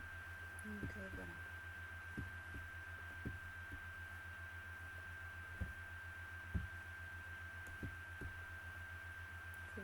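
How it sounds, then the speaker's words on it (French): A laptop cooling fan gives a steady, close whir with a thin high-pitched tone running throughout, broken now and then by soft low thumps and clicks. "excusez-moi encore pour le bruit de mon ventilateur"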